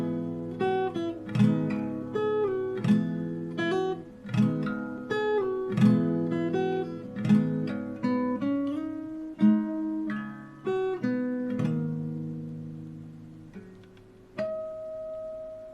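Fingerstyle acoustic guitar plays a song's chorus, with plucked melody notes over ringing bass strings and a pinch harmonic. The picking is steady and close, with no voices.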